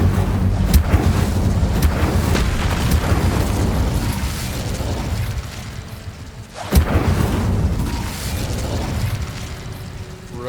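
Incendio fire spell cast in Hogwarts Legacy amid a long stretch of loud, roaring combat noise with bursts and mechanical clatter, then a sharp, heavy blast just before the seventh second and more rumbling after it.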